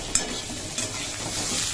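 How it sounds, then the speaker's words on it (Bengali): Masoor dal fries with potato, onion, chilli and garlic in a pan, a steady close sizzle with a couple of sharp stirring clicks and scrapes, and no voices. "ডাল আলু পেঁয়াজ লঙ্কা রসুন দিয়ে ভেজে নিচ্ছি।"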